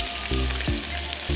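Garlic, green chili and ginger with fenugreek sizzle steadily in a hot pan of oil, a close, continuous frying crackle with a few brief stirring clunks and no talking.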